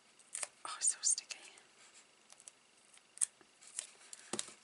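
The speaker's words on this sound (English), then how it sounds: "Should have used my titanium scissors." Several quick scissor snips cut through thin sticky tape, sharp crisp clicks spaced irregularly, with soft handling rustle between them.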